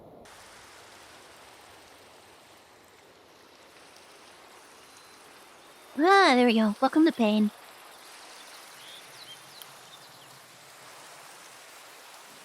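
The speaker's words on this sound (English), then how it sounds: "It's raining in Pain, too." Rain falls in Minecraft with the Craftoria modpack, a soft continuous hiss that stays quiet and even throughout. Someone speaks briefly partway through.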